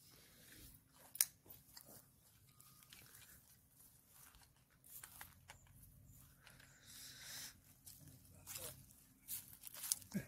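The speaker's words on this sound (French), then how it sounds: "Miss Senza nous pique les carottes pour les manger" A dog named Miss Senza gnaws and crunches on a stolen carrot in a vegetable garden, with soft irregular chewing and biting noises close by, a few sharper crunches, and light speech in the background.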